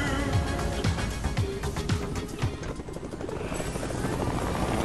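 A Fortnite helicopter flies close by, its rotor chopping loud and fast over steady engine roar with brief game effects mixed in.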